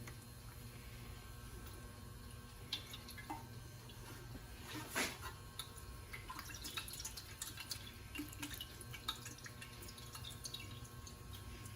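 Water dripping out of the gas tank of an old MTD lawnmower, faint scattered drips and small splashes at irregular intervals over a low steady hum, with one louder splash partway through.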